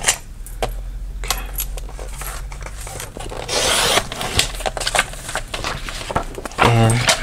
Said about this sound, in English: So I'm gonna cut it with my trimmer here.